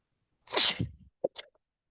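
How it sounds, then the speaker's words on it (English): A single sharp sneeze from dust in the air, close and loud, followed by a couple of small breathy sounds in an otherwise silent room. "I've got to sneeze here for a second."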